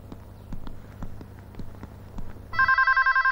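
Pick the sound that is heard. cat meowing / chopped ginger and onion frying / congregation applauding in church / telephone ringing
telephone ringing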